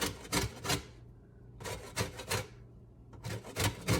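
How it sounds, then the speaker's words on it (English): A raw plantain rasped against a hand grater in three rhythmic bursts of rough scraping strokes, close and fairly loud, with brief pauses between them and no talking. "I'm try to grate it instead"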